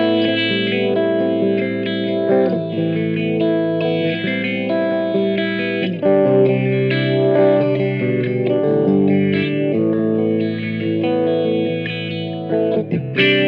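Electric guitar played through a Strymon Brig delay pedal with fast tap tempo, UltraViolet modulation and added reverb, sustained chords and notes trailing into repeating, wavering echoes, loud and continuous with no talking.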